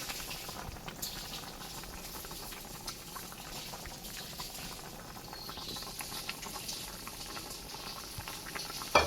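Beef curry bubbles in a pot with a continuous soft, irregular patter of boiling, quiet and close, with a brief louder knock at the very end.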